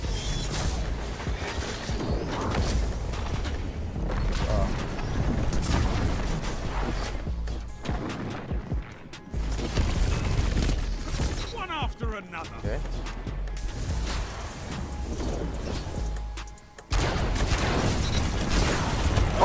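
Gunshots and impact bursts in Destiny 2, irregular loud blasts and crashes scattered through the stretch, mixed with game effects and a player talking over them.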